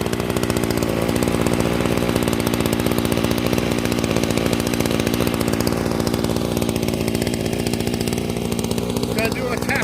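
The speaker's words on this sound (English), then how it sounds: "Idling." A Radley weed eater engine idling steadily and loudly up close, a constant buzzing two-stroke drone with no pauses.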